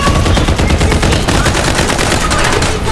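Rapid bursts of automatic gunfire and explosive artillery-like shots from the mobile shooter game Farlight 84, loud and continuous throughout with dense overlapping blasts.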